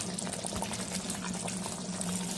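Thick egg gravy bubbles and simmers steadily in a pan, a dense continuous burble with small pops, close and unbroken.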